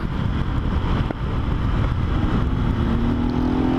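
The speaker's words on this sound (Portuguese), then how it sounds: "escape esportivo metendo louco, ó, pipocando." Motorcycle with a sport exhaust, a 150–160 cc class bike, riding in traffic; a continuous engine drone with faint crackling pops and a rising rev toward the end, no talking.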